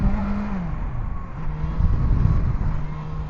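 A BMW S1000XR motorcycle revs hard as the rider lifts it into a wheelie, the engine note climbing then dropping and surging again, loud and close with a rumbling low end.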